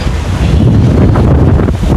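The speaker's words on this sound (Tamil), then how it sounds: "நல்ல குளிர்மையான ஒரு காற்று, அவ்வளோ நல்லா இருக்குது" Wind rushes across an open vegetable garden planted with brinjal, beans, chilli and cassava, a loud, continuous blustery roar buffeting the microphone with no voices.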